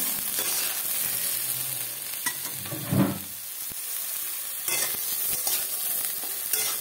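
Eggplant pieces tossed with turmeric fry in a pan, giving a steady broadband sizzle with stirring scrapes and a louder clatter near the middle, close and alone with no talking.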